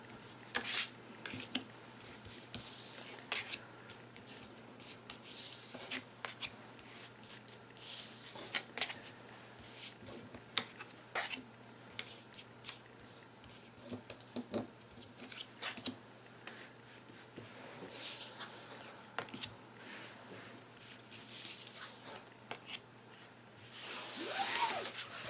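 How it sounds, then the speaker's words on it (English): Tarot cards are shuffled and drawn one by one in a quiet room, giving soft intermittent slaps, flicks and rustles spread across the stretch with no talking. "bear with me while I draw 14 cards"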